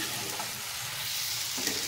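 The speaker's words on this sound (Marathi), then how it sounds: "चांगली फ्राय करून घ्यायची आहे कोलंबीसुद्धा" Marinated prawns fry in a hot pan, a loud, close, continuous sizzle with a brief stir near the end.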